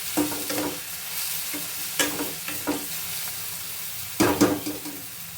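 Salted tomato and onion sizzle loudly in a pan while a spoon stirs them, producing bursts of scraping and clattering over a constant frying hiss, close and with no talking.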